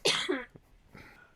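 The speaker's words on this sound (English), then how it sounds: "I have to cough." A single sharp cough, loud and close, followed by a softer breathy rasp as the throat settles.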